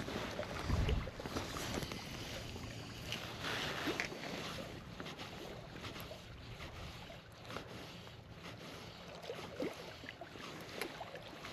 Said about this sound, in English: There's a wind picking back up.